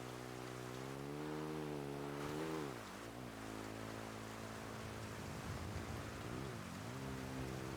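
Steady rain hiss in the GTA V NoPixel roleplay world, a faint wash of falling water mixed with a droning engine hum that dips and swells, with no voices.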